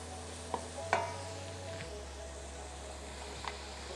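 Mushrooms fry and are stirred in a pan for a lentil lasagna: a faint, steady sizzling hiss with a few soft clicks of the spoon, no talking.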